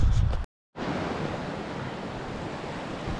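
A swollen Jemez River rushes in a steady, loud broadband roar after a brief dropout, continuous and close with no voices.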